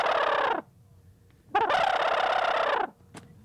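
Gobbler call used by a hunter to imitate a wild turkey gobble for locating toms in spring, two loud close rattling gobbles separated by a pause, with a faint short note at the end.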